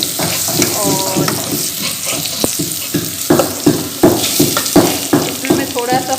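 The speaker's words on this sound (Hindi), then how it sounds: "लहसुन को भून लेंगे और इसके बाद ये ग्रीन सब्ज़ जो प्याज होता है वो मैंने डाल दिया इसमें" Garlic and green onion frying in a pan for sarson ka saag, a close steady sizzle broken by stirring scrapes and clinks, with someone talking over it.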